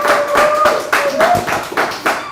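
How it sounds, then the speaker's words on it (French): Studio audience on an African television talk show applauding, a run of rhythmic hand claps under a faint tone, fairly close and loud. "Ça s'applaudit, mesdames, messieurs"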